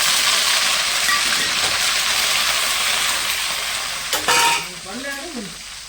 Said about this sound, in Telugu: మేము మెండుమిరకాయలు జీలకర్ర వేసుకొని తాలింపు పెట్టేసుకుందామండి